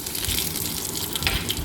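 Spices sizzling and frying in a pan, then water being added, giving a steady, close hissing and bubbling texture throughout.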